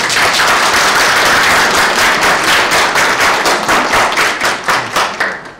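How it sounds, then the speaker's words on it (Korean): Loud, close applause from a party meeting audience in Changwon, encouraging a Bareunmirae Party supreme council member, a dense burst of clapping that thins toward the end into more distinct, separate claps. "이준석 최고위원한테 격려 박수 한번 보내주세요."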